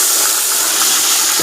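Rice sizzles as it fries in hot ghee for mutanjan, a Tamil sweet rice dish, making a loud, steady, close-up hiss that runs unbroken with no talking.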